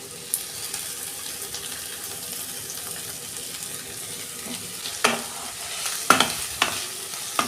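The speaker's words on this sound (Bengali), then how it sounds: "পেঁয়াজটাকে আমি ভালো করে ভেজে নিচ্ছি।" Two large chopped onions frying in oil with ginger and garlic for an egg tadka, a steady hiss of sizzling with several louder spoon scrapes and clanks toward the end.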